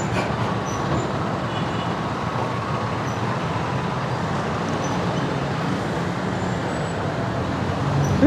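Dense road traffic in a jam near a Shell station by SM Valenzuela, a steady broad rumble of idling and crawling engines that holds evenly throughout.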